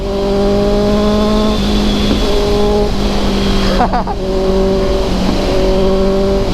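A loud Honda CB650R motorcycle engine revs in stepped bursts, pitch climbing and dropping with gear changes, close and continuous.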